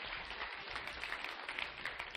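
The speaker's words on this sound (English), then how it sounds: "give them another big round of applause" An audience claps together in sustained applause, a dense even patter of many hands, fairly distant and faint, without voices on top.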